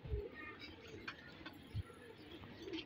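Domestic pigeons coo softly in a loft, low throaty calls repeating a few times against faint background noise.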